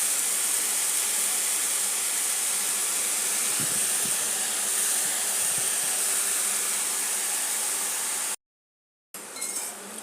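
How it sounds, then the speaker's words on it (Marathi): Dill greens spread into a hot pan with moong dal give off a steady, even steaming sizzle that runs unbroken and close, with no voices over it. "अशी पसरून अशी शेपूची भाजी घालायची आहे।"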